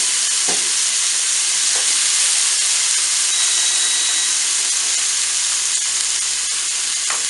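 Sliced datterino cherry tomatoes sizzle in a frying pan for a gnocchi sauce, a continuous loud close hiss and crackle with occasional stirring knocks, no talking.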